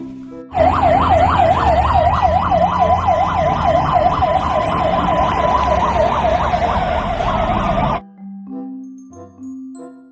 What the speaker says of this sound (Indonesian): lihat ada mobil pemadam kebakaran